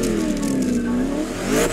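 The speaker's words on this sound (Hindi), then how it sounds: "ये गाड़ी का साउंड है, ये अगेरा आर है।" A Koenigsegg Agera R engine revs in The Crew Motorfest video game while the car sits in neutral. It is a loud, continuous hypercar drone whose pitch dips and then climbs again, with no talk over it.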